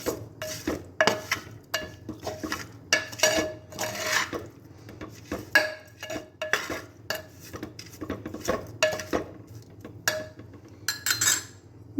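A spoon mixing Kerala-style shark curry ingredients in a dish, close and fairly quiet, with repeated irregular scraping and clinking strokes of metal against the bowl and no voices.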